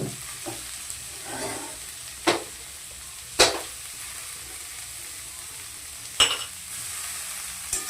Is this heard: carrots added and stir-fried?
yes